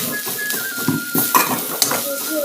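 Grated radish is stirred in hot ghee with garlic, turmeric and salt in a cooking pot, a soft sizzle under a run of spoon scrapes and metallic knocks, close and moderately loud.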